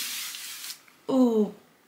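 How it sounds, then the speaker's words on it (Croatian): A short, close burst of fine hissing mist comes from a Balea face and body spray with orange and avocado oil, fading out before someone briefly talks. "Ovaj Balein sprej za lice i tijelo."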